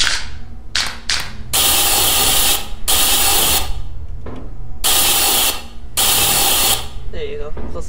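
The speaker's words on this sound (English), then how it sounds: "Spray paint." A spray paint can in the video game Lethal Company hisses in several long blasts separated by short pauses, loud and close, with a voice talking briefly near the end.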